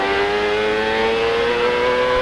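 A Honda-engined CART race car at the 1999 Long Beach street race revs hard and continuously in a low gear, a loud, dense, buzzing engine note close by with no pauses.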